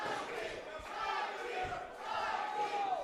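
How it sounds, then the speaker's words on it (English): Wrestling crowd at an 880 Wrestling event cheering and shouting behind Mikey Montgomery, a sustained, moderately distant roar of voices that swells and dips. "You can hear the crowd behind Mikey Montgomery"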